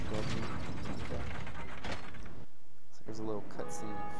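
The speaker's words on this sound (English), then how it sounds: "You're going to pull the lever." A lever is pulled in the Dark Souls video game, setting off a clanking, ratcheting mechanism that grinds and turns for a few seconds, then briefly falls quiet before further mechanical whirring resumes.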